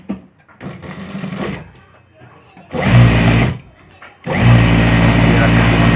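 A sewing machine stitches the leg seam of a salwar in two fast, steady bursts, the second one longer, after a stretch of nearby talking.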